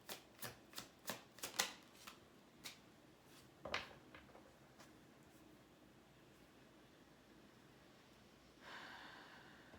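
Tarot cards being shuffled and drawn, starting with a quick series of crisp riffling snaps, then a few sparse card taps, then a soft hushed rustle near the end, all quiet and close with no talk.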